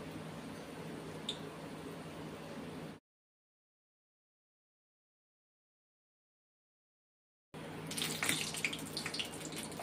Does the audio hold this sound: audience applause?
no